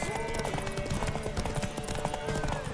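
Steady clip-clop of horse hooves trots along in a busy soundscape from The Witcher 3: Wild Hunt, with a voice talking over the rhythmic hoofbeats.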